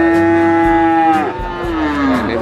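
A cow moos loudly and close by at a cattle market in Pati, one long drawn-out low call that bends downward at the end, with faint market noise behind.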